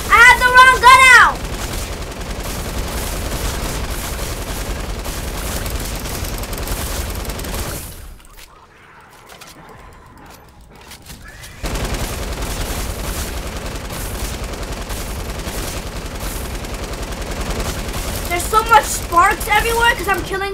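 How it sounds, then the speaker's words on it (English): Fortnite gunfire rattles in rapid, crowded bursts beneath excited talk, dropping away to near quiet midway before the shooting and chatter return just as loud. "It's not letting me shoot them! I have the wrong gun out!"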